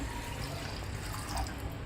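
One litre of water pouring steadily into a kadai for tamarind chutney, a continuous, fairly quiet filling wash with no voices.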